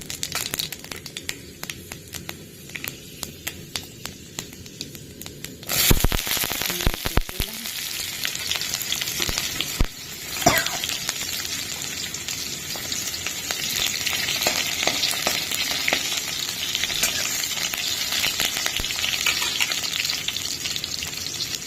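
Panch phoron spices hit hot oil in a pan used for frying aubergine, a soft crackle that jumps into a loud, bright sizzle with stirring scrapes, then settles into a steady fry.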